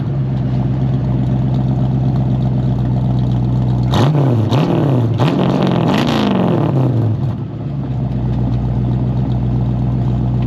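A refurbished 1968 Mustang engine idles, then revs up sharply several times in quick bursts before settling back to a steady idle, loud and close.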